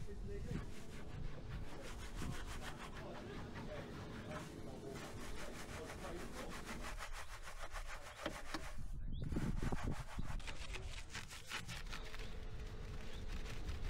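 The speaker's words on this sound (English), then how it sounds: "we're just going to go back in with a bit of citrus just for the tires, and we're going to tackle it with a few various brushes. First up is the Easy Barrel Brush." An Easy Barrel Brush scrubs a car wheel coated in citrus cleaner, producing rapid, rhythmic, close-up bristle rubbing that carries on steadily throughout.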